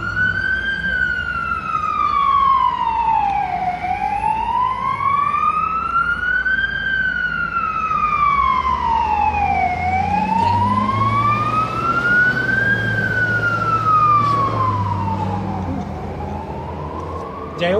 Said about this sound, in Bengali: আমি দেখা যাচ্ছে যে ফায়ার সার্ভিসে একটা গাড়ি যাচ্ছে।